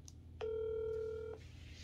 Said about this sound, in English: So I'm going to call again. I'm ringing two times.